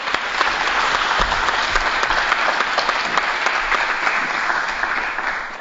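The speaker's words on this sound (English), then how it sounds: "Let's give our panel of students a big round of applause." A seated audience gives a panel of students a big round of applause, dense sustained clapping that holds steady and fades slightly toward the end.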